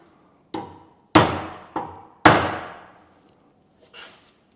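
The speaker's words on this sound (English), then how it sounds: "you want to take your center punch and make you a little starting mark" A hammer strikes a steel center punch to mark a starting point for a big drill bit: four sharp, ringing metallic taps in an uneven rhythm, each decaying quickly, then a fainter fifth tap, close and clear.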